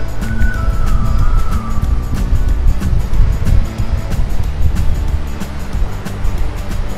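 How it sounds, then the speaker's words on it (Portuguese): Calm waves wash gently onto a rocky beach at low tide with natural pools nearby, a continuous close surf rush with a steady low rumble. "As ondas bem calmas, né?"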